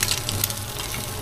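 An egg fries in a wok-style pan with its yolk broken, giving a steady close sizzle and crackle with small pops throughout and no voices.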